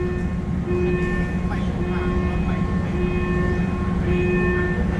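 A Bangkok Airport Rail Link train rumbles along with steady rolling noise and a sustained electric whine, while someone talks over it.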